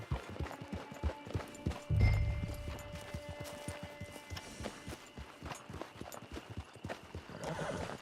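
A horse in the Red Dead Redemption Online video game whinnies once, loudly and briefly, over a steady rhythm of hoof clip-clops and game ambience.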